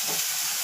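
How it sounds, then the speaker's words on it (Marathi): Misal masala spice mix hits hot oil with a short, steady sizzling hiss, close and constant, with no voices. "हा आपला मिसळ मसाला टाकला."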